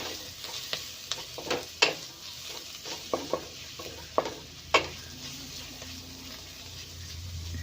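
Red chili powder being stirred into frying noodles, an irregular string of sharp utensil taps and scrapes against the pan over a soft, low sizzle.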